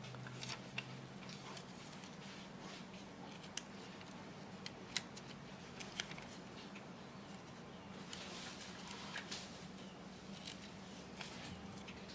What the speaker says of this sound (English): I'm gonna try my little scissors.